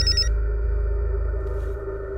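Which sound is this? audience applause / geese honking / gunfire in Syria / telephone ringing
telephone ringing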